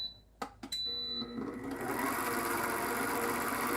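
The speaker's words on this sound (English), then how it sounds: "So I'm putting on a whisk and I'm whipping it up." A digital stand mixer fitted with a whisk whips cooked sweet potatoes: a few clunks and a brief whine as it starts, then a steady, moderately loud mechanical whirring that fills the rest of the stretch without voices.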